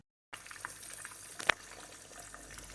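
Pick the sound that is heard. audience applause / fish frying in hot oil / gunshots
fish frying in hot oil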